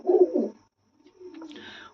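A pigeon coos nearby: a low throaty burst, a brief pause, then a second softer, drawn-out coo.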